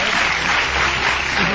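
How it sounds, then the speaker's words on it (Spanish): Audience applauds La Veneno, the Spanish transsexual figure Cristina, in Adra in 1996: a short, loud, continuous burst of crowd clapping with no gaps. "Un fuerte aplauso para la Veneno."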